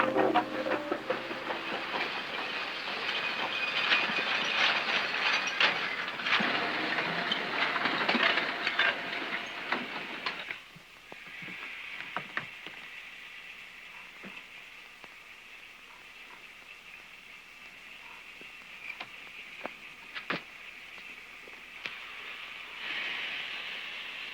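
A train rumbles and hisses nearby, loud at first, then settling into a quieter steady hiss with scattered clanks and clicks as it slows.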